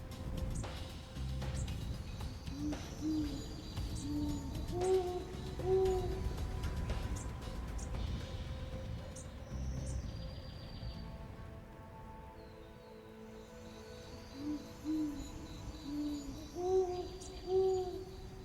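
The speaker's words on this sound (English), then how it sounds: "the great horned owl, whose deep hoots echo through the swamp" Deep, low hoots of a great horned owl in an Everglades swamp repeat in short phrases over a steady background of night insects and distant hum.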